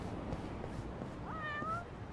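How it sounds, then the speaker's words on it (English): A cat in the video game Yakuza: Like A Dragon gives a single clear meow over quiet background noise, near and moderately faint. No one is talking. "I hear a kitty."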